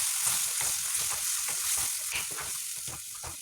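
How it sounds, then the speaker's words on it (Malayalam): A jackfruit seed and mango curry mix sizzles in a frying pan while a spoon stirs it in steady, rhythmic scraping strokes, close and continuous, with no voices. "ഒഴിച്ചു കൊടുത്ത് നമുക്കിത് നന്നായിട്ടൊന്ന് ഇളക്കി യോജിപ്പിക്കണം."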